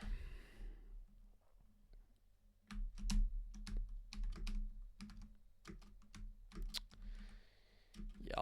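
Hard, rapid key presses on a worn, battered computer keyboard during fast gameplay, irregular clusters of sharp clacks close to the mic, fairly loud with brief pauses between bursts.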